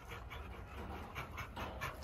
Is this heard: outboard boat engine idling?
no